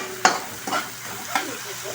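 Tomatoes stirred and sautéed in a pan for a fish sarsiado, with soft scraping strokes at three points over a low steady sizzle, close by and moderately loud.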